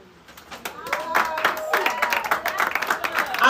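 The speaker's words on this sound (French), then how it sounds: "Applaudissons." Clapping from an audience at a certificate presentation ceremony, a scattered burst of hand claps that starts sparse and thickens, mixed with voices and some talk in the room.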